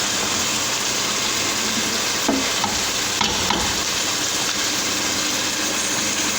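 Food for chicken majboos is stirred in a hot cooking pot, giving a loud continuous sizzle with scraping and a few clunks of the utensil, and no talking.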